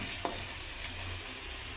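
Bottle gourd (upo) with shrimp sautés in a pan, giving a steady close sizzle with a single quick clink of a utensil near the start.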